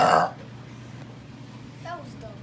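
One short, loud burp opens the moment during a family burping contest, then near-silence follows and a voice starts talking.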